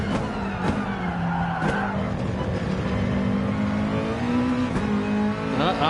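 A Nissan race car in GT Sport at Monza brakes too late, its engine droning steadily while tires squeal and skid in long, wavering whines, loud and continuous.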